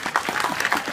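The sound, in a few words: front row of the audience clapping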